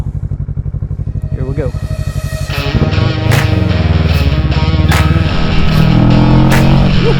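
A Kawasaki 650 motorcycle fitted with a Rapid Bike ECU sets off on its first ride. A rhythmic idle pulses up close, then the engine revs hard into a loud, sustained roar, with someone speaking briefly.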